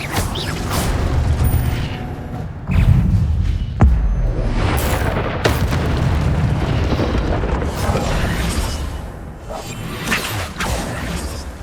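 Incendio fire spells are cast in Hogwarts Legacy on PS5, with repeated booming whooshes and bursts of flame layered over rumbling combat effects and no voices.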